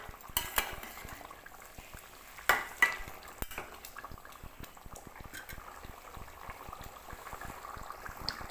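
Country chicken curry with potatoes simmers in a pot, a soft continuous bubbling with scattered small pops and a couple of brief clinks from a utensil, fairly close and quiet, with no talking.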